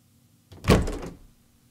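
A single heavy door rattle and thunk as a locked door is tried in a horror game, one short muffled burst, close and moderately loud against a quiet background.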